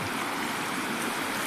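Mountain spring water in Mahdah, Al Buraimi, Oman, flowing and splashing like a small waterfall, giving a steady, close, full rush with no voices over it.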